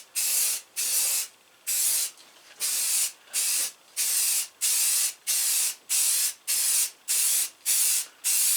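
A paint spray gun coats a John Deere 318 garden tractor in short, regular hissing bursts, about a dozen close, loud sprays separated by brief pauses, with no talking.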